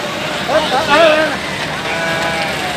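Goats awaiting sacrifice bleat at a slaughter site in Mecca, one wavering bleat rising clearly over steady wind and ambient noise, with a voice talking nearby.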